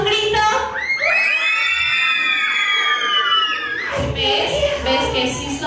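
A crowd of girls in a birthday-party audience lets out a long, loud, sustained collective scream, rising in pitch and holding steady for several seconds before breaking into mixed shouting and chatter.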